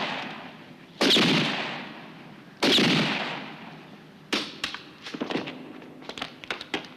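Gunfire from a 1968 film: two loud, reverberant shots a second or so apart, then a rapid run of sharp, clattering bursts.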